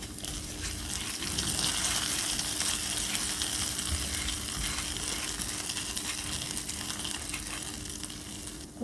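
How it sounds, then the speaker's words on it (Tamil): Hot tempering of green chilli, ginger and curry leaves is poured into dosa batter, giving a steady close sizzle and hiss that lasts throughout with soft liquid movement underneath. "தாளிச்சதை இந்த மாவில் சேர்த்துடலாம்."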